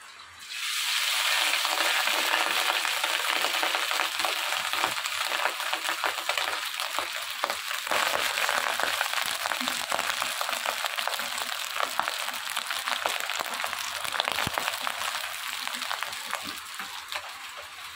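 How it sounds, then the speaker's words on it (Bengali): Cooked rice hits hot oil in a pan for fried rice, setting off a loud, steady sizzle that holds strong and even for the whole stretch, with faint stirring scrapes underneath. "তেল আমাদের গরম হয়ে এসেছে, এবার দিয়ে দেব ভাত।"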